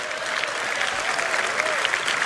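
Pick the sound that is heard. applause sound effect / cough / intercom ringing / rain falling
applause sound effect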